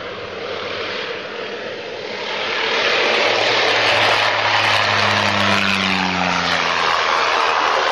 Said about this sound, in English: This is what a dangerous takeoff looks like.